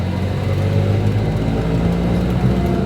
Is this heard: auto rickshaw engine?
yes